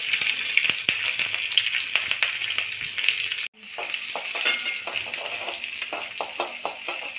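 Green chilies fry in hot oil in a pan, a steady close sizzle with a brief pause midway, then resuming with repeated light scraping stirs and small spatula taps.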